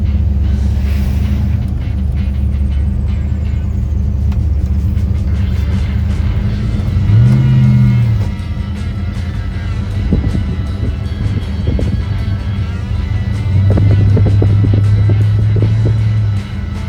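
A car rolls into the Hooptie Kings car show and swap meet with a steady, loud low engine drone. Wind buffets the microphone, and a few brief higher engine swells rise over the drone.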